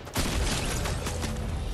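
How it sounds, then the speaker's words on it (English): Gunfire from a Fortnite match near a bridge between Craggy and Steamy, a dense burst of overlapping shots and booms running loud and steady through the clip after a brief quiet start. "There's covering fire coming in, there's covering fire"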